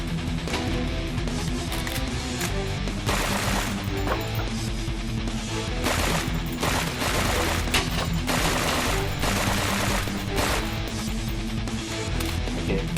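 Rapid automatic gunfire from a small SMG in the VR game Arachnosplat, dense continuous bursts with clattering impacts filling the whole stretch, loud and up front over a busy game soundscape.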